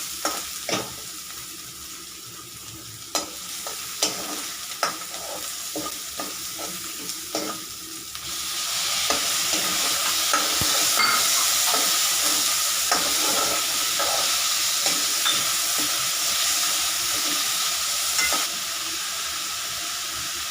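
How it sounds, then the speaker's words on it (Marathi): Onion and tomatoes sautéing in a pan for a garlicky fenugreek dish, with scattered spatula clicks and scrapes at first, then a steady loud sizzle once the tomatoes go in, stirred with repeated taps throughout. "कांदा चांगला परतून झाले की नंतर टॅमॅटो टाकायचे आणि टॅमॅटो पण चांगले परतून घ्यायचे"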